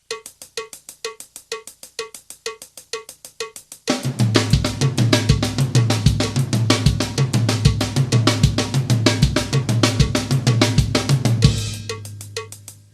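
A drum kit plays a fast repeating five-note grouping in a triplet feel, opening with a few light clicks before full kit hits come in loud and steady.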